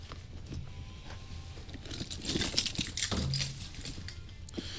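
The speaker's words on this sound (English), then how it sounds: "You think I have enough keys now?" A bunch of many keys jingles and clinks close by in several quick, bright rattles that swell in the middle, with no one talking.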